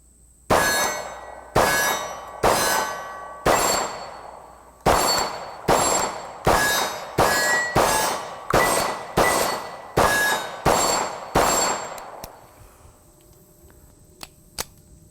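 Beretta M9 full-size 9mm pistol fired at steel targets about 10 yards away, a magazine of around a dozen sharp shots at a steady pace, each followed by a bright ringing clang of steel, all fairly loud, ending with a few faint clicks.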